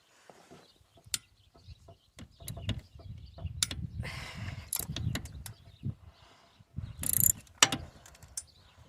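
A ratchet clicks in short irregular bursts as side bolts are loosened on a Honda Foreman 450S ATV under rebuild, with sharp metallic clanks and tool knocks scattered between quieter gaps, close and moderately faint.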